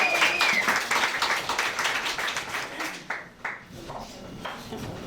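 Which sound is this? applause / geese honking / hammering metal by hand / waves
applause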